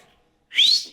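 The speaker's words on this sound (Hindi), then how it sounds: "एक बार सीटी बजाओ ना" A single short, bright whistle from a person, rising slightly in pitch and lasting under half a second, clear and alone after a brief quiet pause.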